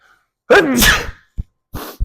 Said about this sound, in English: And it's about to make me sneeze.